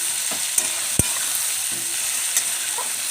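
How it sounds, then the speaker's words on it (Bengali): Garlic and ginger paste frying and being stirred in a pan, a continuous bright sizzle with a few scrapes and one sharp knock of the spoon. "রসুন দিলাম, আদা বাটা দিলাম, কষানো হোক"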